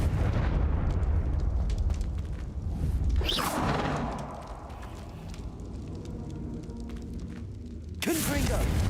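Spell explosions from Confringo in Hogwarts Legacy burst in a roaring whoosh around the middle and again near the end, layered over rumbling game ambience and background music.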